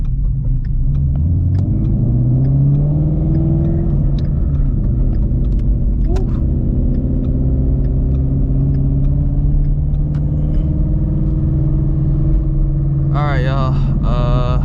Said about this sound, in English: You know it's running rich when it's popping and banging